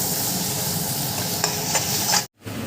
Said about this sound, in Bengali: টমেটোগুলো একটু নরম হয়ে এলে তখন আমি লঙ্কাটা এবং চিকেনটা দিয়ে কষাতে থাকি